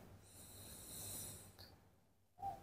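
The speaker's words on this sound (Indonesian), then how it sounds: "Tarik nafas panjang kembali dari kedua hidung." Someone takes a long, slow inhale through both nostrils during seated yoga breathing, a soft airy hiss lasting over a second, followed by quiet and then a brief louder breath sound.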